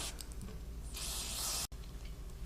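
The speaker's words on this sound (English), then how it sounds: "I'll spray the blades after I've maybe brushed them off. I'll just spray them." A short hissing burst of aerosol lubricant sprayed onto dog clipper blades, lasting under a second, close by, against a steady background hum.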